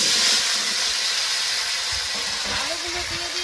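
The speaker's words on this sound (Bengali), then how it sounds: "আলুগুলো এবার ভেজে নেব।" Potatoes frying in hot oil in a kadai, a loud continuous sizzle and hiss that fills the clip, with a faint voice talking underneath.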